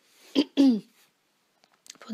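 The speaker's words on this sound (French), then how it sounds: "j'arrête pas de me racler la gorge" A couple of short, rough throat-clearing bursts close to the mic, followed by a pause and faint breathy sounds.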